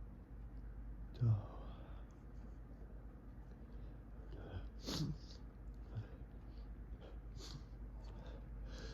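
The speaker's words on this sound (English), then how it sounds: "I'm gonna sneeze." A single sharp sneeze near the start, fairly close, with a few breathy snorts and sniffles later, all quiet against a low hum and faint background voice.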